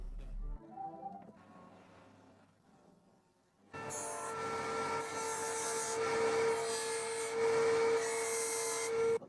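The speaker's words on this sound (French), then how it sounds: "j'ai poncé en arrondissant aussi les bords" Scrap wood for a two-cat house sanded as its edges are rounded, with steady, loud abrasive grinding beginning partway through after quieter handling noises.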